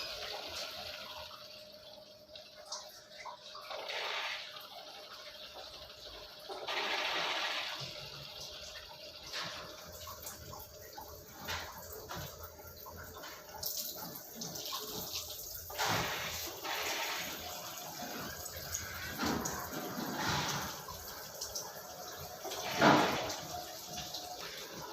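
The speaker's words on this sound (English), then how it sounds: "with help of the extra piece of pipe we have to flush the membrane for 5 minutes." Water rushes steadily through the membrane of a Livpure Envy alkaline RO purifier during a service flush, running out an extra piece of pipe with a continuous hiss and occasional gurgling surges, close by and alone.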